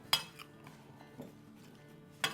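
A spoon mixes chana papdi chaat in a bowl, making sharp clinks against the rim at the start and end with quiet stirring scrapes between, close and soft.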